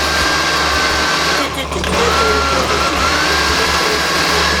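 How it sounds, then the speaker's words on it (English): A kitchen blender whirs continuously as it blends frozen fruit with juice for a Dole Whip. The motor noise is loud and steady close by, and a person talks over it. "It's blending."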